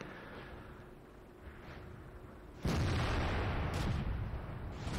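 An artillery shell explodes in the tank video game World of Tanks: a sudden, heavy, booming blast cuts in partway through, over low background noise, then rumbles on loudly to the end.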